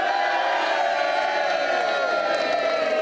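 Supporters of Nigel Farage cheer his election win at a 2024 UK general election watch party, a steady roar of crowd whoops and shouts filling the room throughout.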